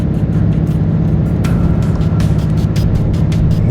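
A RAM 3500 Cummins HO dually diesel drones steadily and loudly under load while towing up a steep 25% grade in second gear, with a constant low engine roar and faint ticking on top.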